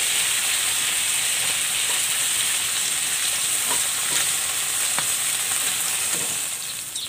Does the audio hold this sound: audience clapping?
no